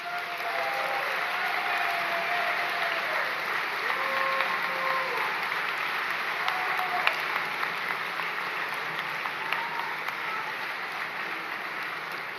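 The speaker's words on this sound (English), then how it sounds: "show your appreciation for them with a hearty round of applause." An audience at a commencement ceremony applauds in a hearty round, a steady wash of many hands clapping that holds at an even level throughout, with a few faint tones and voices in the background.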